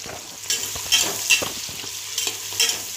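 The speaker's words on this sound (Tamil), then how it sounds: "ஸோ வெங்காயமும் கத்திரிக்காயும் போட்டு நல்லா கொஞ்சம் வதக்கி விடுங்க" Chopped onion and brinjal sautéing in hot oil with mustard seeds and curry leaves in a pressure cooker for idli sambar: a bright, close sizzle with quick stirring scrapes over about three seconds.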